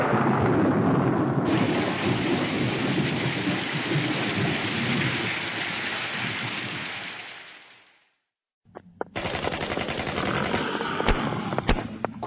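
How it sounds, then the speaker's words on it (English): Heavy rain pours continuously with deep thunder rumbling underneath, fades out into brief silence, then returns as a sharper, crackling downpour with hiss and sudden bursts. "Could be raining."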